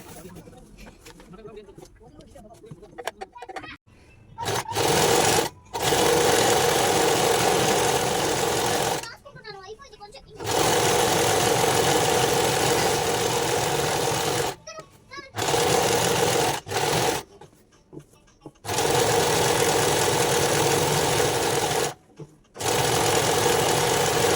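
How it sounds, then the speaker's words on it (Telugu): A sewing machine stitches the side seams of a pair of pants in long loud bursts separated by short pauses, close by, with faint bird cooing and brief quiet moments between runs. "ఇంకా ప్యాంట్ కూడా స్టిచ్ చేసేసి ఇంకా సైడ్ స్టిచ్చెస్ అయితే వేస్తున్నాను"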